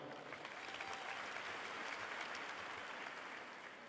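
A crowd applauds steadily at a 2019 high school graduation ceremony, a dense, continuous wash of clapping from many hands, moderately distant and unbroken throughout.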